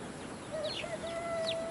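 A turkey calls near a freshly hatched clutch of eggs: short, faint high-pitched fowl calls and a thin sustained tone over a quiet outdoor background, lasting under two seconds.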